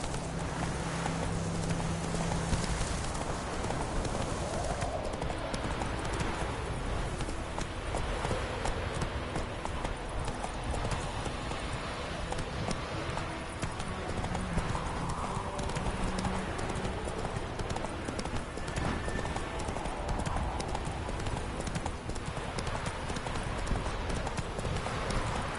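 Roach, Geralt's horse in The Witcher 3: Wild Hunt, gallops with steady, close hoofbeats that go on for the whole stretch over a dense in-game ambience.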